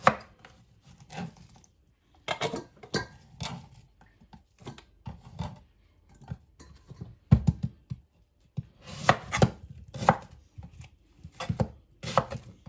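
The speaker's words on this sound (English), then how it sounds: "So now I'm chopping my onions" Knife chopping onions on a board in quick bursts of sharp taps, pausing between runs, close and fairly loud.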